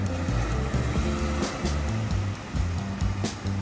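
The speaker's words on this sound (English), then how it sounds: "so that you could see out to the amazing ocean and hear the ocean" Ocean waves wash in continuously, heard from an open door of a beachfront ocean-view room at The Breakers hotel, a steady loud rush with low rumbling swells and no talk.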